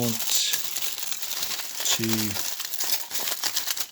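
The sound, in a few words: scrunching tin foil for a figure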